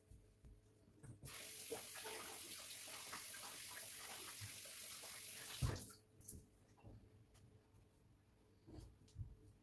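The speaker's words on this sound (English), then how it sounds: "So I'm gonna go rinse my hands." Tap water running steadily into a sink for a few seconds while hands are rinsed, a close, even rush that cuts off abruptly, followed by faint drips and small handling noises.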